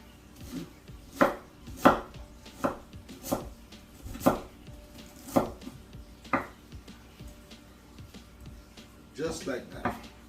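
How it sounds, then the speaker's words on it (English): A knife cuts through cabbage on a board with a dozen sharp, crunchy chops at an uneven pace, heard close by with some soft kitchen noise in between. "And I cut the cabbage in half."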